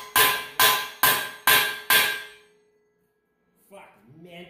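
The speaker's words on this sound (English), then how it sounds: "I'll use a claw hammer for steep metalworking." A claw hammer strikes metal five times in a steady rhythm during gantry building, each blow a loud, ringing clang that decays quickly, then a long silent pause before a voice speaks briefly at the end.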